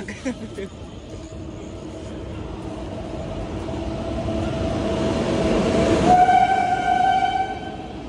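A small toy train ride rumbles steadily louder as it runs, then a sustained horn sounds near the end, with people's voices mixed into the background.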